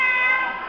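A voice imitates a cat's meow at a Three Kings Day event, one loud, drawn-out tonal mew that tapers off quickly.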